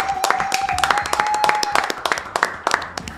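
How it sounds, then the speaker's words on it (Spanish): An audience claps to welcome a guest at a literary talk, a burst of scattered, distinct hand claps that thins out over a few seconds, with a voice audible underneath. "vamos a recibir con un fuerte aplauso. Sí. Aplausazo."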